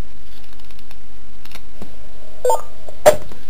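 DTMF touch-tones dial a prefix and phone number through a ham radio repeater to send a text: a few sparse short beeps and clicks over a quiet background, with two sharper tones near the end.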